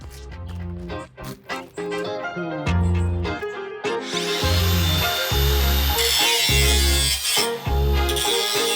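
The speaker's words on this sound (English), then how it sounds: "then I'll turn around and grind this way and sparks will shoot that way" An angle grinder sharpens a steel lawn mower blade outdoors, throwing sparks; it cuts in with bursts of harsh, loud grinding that settle into a sustained, gritty screech with short pauses as the disc is repositioned.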